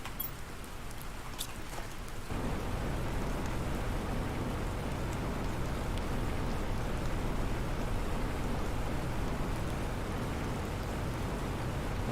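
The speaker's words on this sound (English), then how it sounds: "It's dark and it's raining." Steady rain in the survival game The Planet Crafter, a dense even hiss that starts after a brief quieter opening and continues unbroken at moderate level, with no talking.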